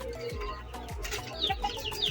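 Chickens let out of their coop on a village farm cluck and call in short repeated bursts, close by, with faint chirps overlapping.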